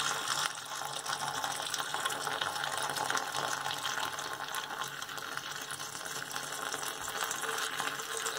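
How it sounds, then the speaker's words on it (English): Hot water from a kettle, just off the boil, pours steadily down a clogged sink drain in an old sink, a continuous close splashing gush with no break for the whole stretch. "So I've got a kettle full of hot water here."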